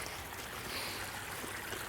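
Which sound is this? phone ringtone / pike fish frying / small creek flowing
small creek flowing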